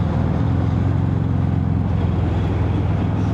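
Harley-Davidson FXFBS 114 Fat Bob with its big V-twin engine easing off the throttle at highway speed, a steady, loud low rumble mixed with wind rush, continuous throughout.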